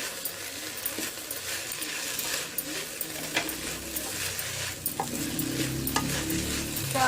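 A ladle scrapes and stirs Andhra-style gongura chutney in a pan, giving steady close scraping and clinking with a soft sizzle underneath and a few sharp metallic taps, no talking.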